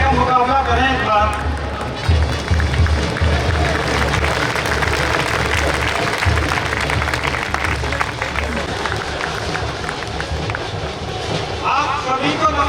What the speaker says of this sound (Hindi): आपकी तालियां इस बैंड का मुकाबला करें एक बार।